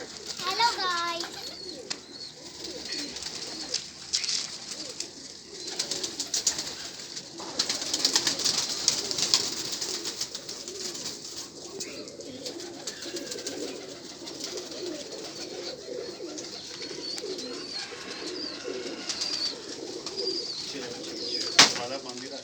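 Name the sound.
pigeons cooing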